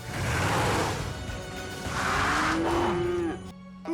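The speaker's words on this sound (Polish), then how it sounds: "Jeszcze nie, Ryder, ale znalazłam krowy farmera." Cartoon cattle in the animated series PAW Patrol moo loudly in long, drawn-out calls, several overlapping lows close by, ending with a falling tone.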